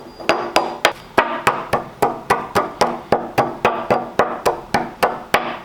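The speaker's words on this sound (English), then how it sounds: "as I crush up these rocks" Rock samples from the Permian-Triassic boundary in Utah are pounded in a steady run of about twenty sharp, hard impacts, evenly spaced and loud, with no talking.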